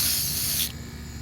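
Aerosol spray paint hissing steadily onto the underside of an upturned patio chair, a loud continuous burst that cuts off abruptly partway through, leaving a low background hum.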